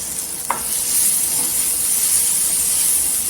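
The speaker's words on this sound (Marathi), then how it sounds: "इथे तेलावर छान असा मसाला परतायचा" Spice masala of cumin powder, garam masala and pav bhaji masala frying in oil for a cucumber curry, a continuous close sizzle and hiss with a single sharp clink of a spoon early on.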